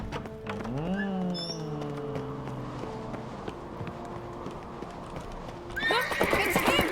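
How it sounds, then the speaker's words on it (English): A horse in The Witcher 3 snorts and whinnies, followed by a steady run of hoof clip-clop, with a faint hint of voices near the end. "Horse will chase him down."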